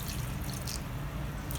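Water trickles and drips steadily into a vessel of jaggery, a soft continuous pour with faint splashy detail and low background hum.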